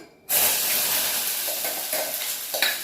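A tempering (vaghar) for dosa chutney is added to hot oil and bursts into a loud, sudden sizzle after a brief quiet moment, then settles into a steady hiss with small crackles close by.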